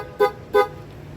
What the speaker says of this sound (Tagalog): Busina na natin ulit.